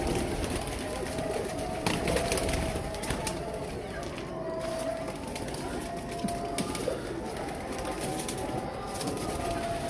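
Pigeons coo and murmur inside a loft, with soft repeated low calls and occasional wing flutters over a busy, steady background of bird noise.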